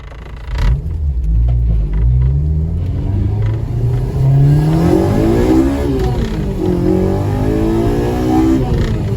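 A Honda Civic DX with a swapped K20Z3 engine and manual gearbox revs up hard and climbs in pitch as it accelerates, loud and close, with a steady throaty rumble underneath.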